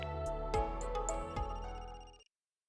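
A telephone in the video game Another Code: Recollection rings with a quiet, steady electronic tone that warbles for about two seconds before cutting off into silence.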